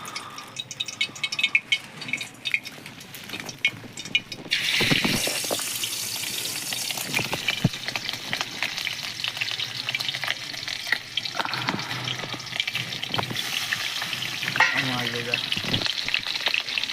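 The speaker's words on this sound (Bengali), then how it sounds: "মাছ ভাজতে অনেকটা সময় লাগে।" Fish fries in hot oil in a wok, a loud continuous sizzle that swells sharply a few seconds in and crackles steadily with occasional stirring scrapes and spatters, no one speaking.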